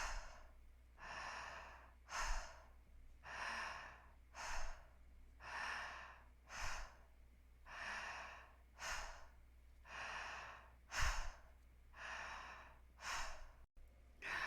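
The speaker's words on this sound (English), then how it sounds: "Vibrant, alive inhales and soft, surrendered exhales." Slow, deep human breathing during a breathwork practice, about a dozen long rhythmic cycles of fuller inhales and softer, gentle exhales, close and quiet with no talking.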